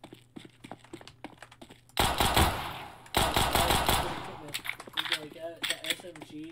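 A submachine gun firing in a video game: rapid bursts of shots over about two seconds, quick clicks and taps before and after, and a voice talking in the background.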